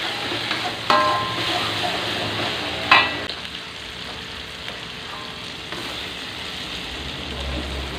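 Green eggplant stir-fry sizzling in a pan as it is shaken and tossed, a steady fry hiss broken by two sharper scraping clatters near the start and middle, with no talk.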